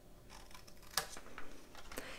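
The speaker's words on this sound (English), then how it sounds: "I'm also gonna come in and just slightly angle cut as I remove that." Scissors make small angled cuts in paper for a pop-up easel gift box. A few quiet, close snips and crisp paper rustles sound against faint room noise, with two sharper clicks about a second apart.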